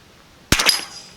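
A Savage Rascal .22LR youth rifle fires a single sharp shot at a red metal target, a loud close crack followed by a brief ringing tail.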